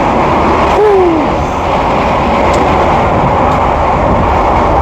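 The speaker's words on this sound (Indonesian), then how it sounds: "yang paling biasa di sini adalah suara rel yang sangat berisik" Rails roar loudly beneath the Ranggajati passenger train running at about 95 km/h, a constant, dense rumbling clatter heard from inside the carriage.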